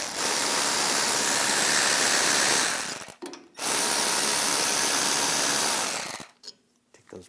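A 12mm socket on a power ratchet spins out the brake caliper bolts on a 2015-2022 Chevrolet Colorado rear brake, two loud continuous whirring bursts of about three seconds each, separated by brief pauses.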